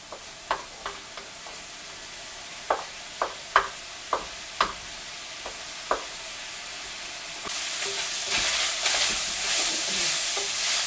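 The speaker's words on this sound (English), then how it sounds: "I'm browning 1 pack of bulk sausage." A pack of Jimmy Dean bulk sausage browns in a pan, with a steady soft sizzle under a series of sharp clacks from a utensil stirring and breaking up the meat, then a louder, hissing fry takes over near the end.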